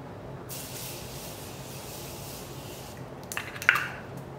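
A brief, soft spray of Morphe setting spray mists onto a face, hissing for a few seconds, then fades, followed by a couple of small clicks and taps nearby.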